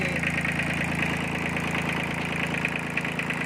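A small used tractor with a three-cylinder engine idling close by, a steady even drone with a faint rhythmic knock and no speech over it.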